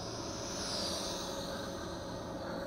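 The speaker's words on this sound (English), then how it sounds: "I hear a big airplane coming by." A big airplane passes high overhead, a faint, steady, distant engine roar that holds evenly throughout with no talking.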